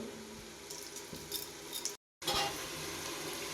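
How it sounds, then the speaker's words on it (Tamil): Half a kilo of tomatoes with rock salt being stirred as they fry in a pot for country chicken biryani, soft sizzle with scattered scraping and clinks of the spoon, briefly cut silent midway. "தக்காளியை நல்லா கிளறி விட்டுக்கலாம்"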